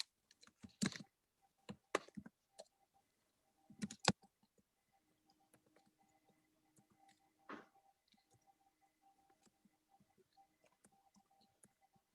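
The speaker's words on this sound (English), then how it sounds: "can you see what I'm typing here?" Fingers type on a computer keyboard in quiet clusters of key clicks, a few louder bursts early on and then sparse, soft taps.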